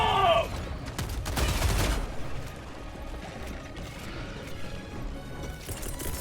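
Gatling gun fire in Helldivers 2 against Terminid bugs: a dense, continuous rattling burst, loudest in the first two seconds, then a lower sustained mechanical clatter and rumble of battle.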